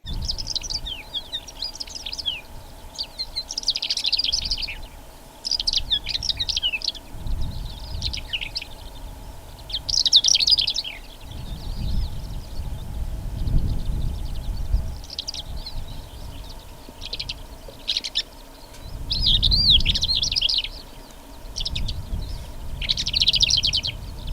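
Larks, likely Thekla's or short-toed larks, sing repeatedly in open country on Menorca, with bright trilling phrases coming in bursts over a steady low background rumble.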